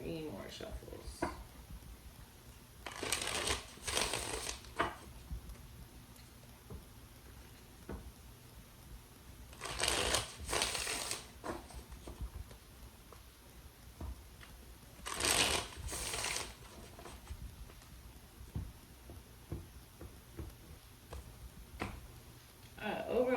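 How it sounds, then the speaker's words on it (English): Three riffle shuffles of tarot cards, each a brief crisp flutter, sound at regular intervals with soft handling noise in between. "Let's do 3 more shuffles."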